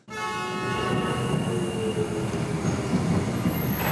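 A subway train runs in a tunnel, with a loud, steady rumble of wheels on rails, high metallic squealing and whining tones throughout, close and continuous, without voices.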